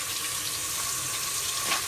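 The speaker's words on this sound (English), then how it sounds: "you want to run the water. I got cold water." Cold water runs steadily from a kitchen tap as an artichoke is rinsed under it, a close, even hiss of flowing water with no pauses.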